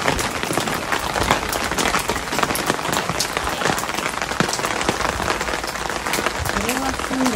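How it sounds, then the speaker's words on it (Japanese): Steady rain pattering on surfaces in a quiet old fishing-town street in Saganoseki, Oita, a dense close hiss with scattered distinct drops throughout. "あいにくの雨ですね。"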